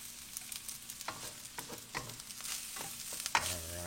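Long grain jasmine rice stirred in a hot pan, repeated spatula scrapes over a soft sizzle, ending in a louder clatter, with no voices.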